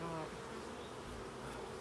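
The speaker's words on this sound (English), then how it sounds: "Sticking your hand on a bunch of fuzzy bees" A close, steady buzz of many bees drones on without a break, moderately loud and alone.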